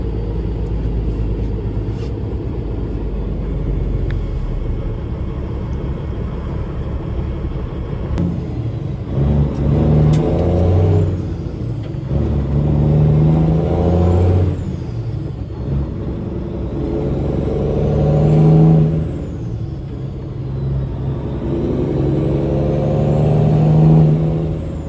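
A Kenworth W900 semi truck idles with a deep steady rumble, then its engine revs loudly in several rising surges, each swelling and falling back, close and alone.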